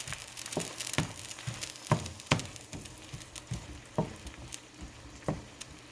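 Onions sizzle and crackle in a pan, with scattered sharp pops and occasional scraping, fairly quiet and close.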